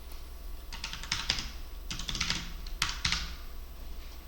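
Keys clatter on a computer keyboard as JavaScript code is typed, coming in quick clustered bursts of crisp, close clicks with short pauses between them over a low steady hum.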